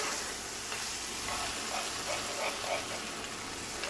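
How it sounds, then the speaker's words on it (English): Beef broth being stirred in a skillet for gravy, a spoon scraping across the bottom of the pan with a soft, steady sizzle and light scraping strokes close by, no talking. "Stir it around. Make sure you scrape the bottom of your skillet."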